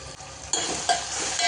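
Curry leaves dropped into simmering Telangana boddu karam in a pan, giving a close, continuous sizzle and stirring noise that jumps louder in a couple of bursts as the leaves hit.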